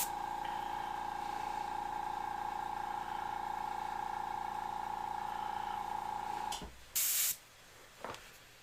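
An airbrush sprays paint over a stencil while painting a Grim Reaper design, giving a steady, close hiss for about six and a half seconds before cutting off, followed by a couple of brief bursts.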